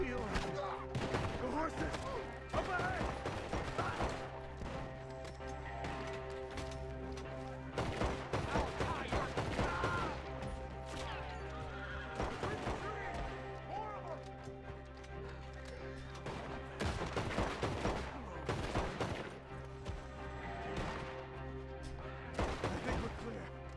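Rapid automatic gunfire in Red Dead Redemption 2, repeated loud bursts and volleys over a busy in-game soundscape that includes horse hooves and running, with someone talking at times in between.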